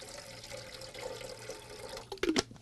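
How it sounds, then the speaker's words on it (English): Water is poured into a container, heard up close as a soft, steady trickle that swells into a brief splashing gush near the end. "I just pour water in"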